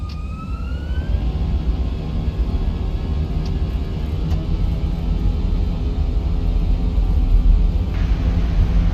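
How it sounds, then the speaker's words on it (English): Simulated Fenix A320 IAE engines spooling up to full takeoff power, a loud broad rumble with rising and steady tonal whines that builds gradually and continues without talking. "I'll release parking brake and advance to full power"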